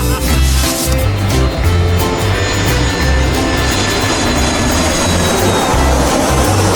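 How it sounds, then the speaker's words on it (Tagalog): An airplane drones steadily and loudly overhead, a dense continuous roar with a low pulsing rumble throughout, no talk. "Isang eroplano."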